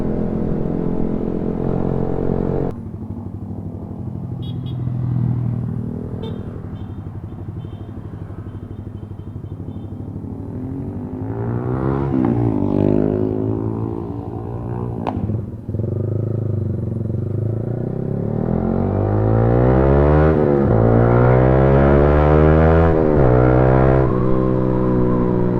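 A group of five motorcycles riding on a road trip, engines droning steadily up close with rising and falling revs as they accelerate, occasional clatter and wind buffeting, with no talk heard over the engines.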